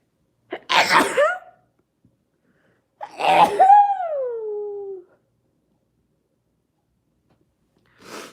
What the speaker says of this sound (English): It hurts so bad when I sneeze.